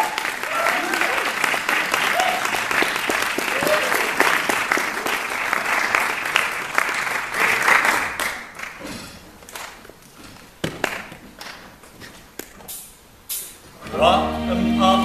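Audience applause greets a brand new mini musical from a theatre production company, a dense sustained clapping for about eight seconds that thins into scattered claps and thuds before music begins at the end.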